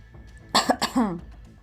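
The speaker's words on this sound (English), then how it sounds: "he coughed, grabbing your attention" A man coughs a few times in quick succession, short harsh bursts up close against a quiet background.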